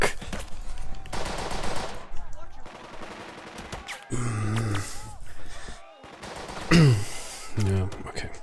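Bursts of machine-gun fire in the WW2 video game Burden of Command, several rapid volleys broken by pauses, mixed with grunts and gasps.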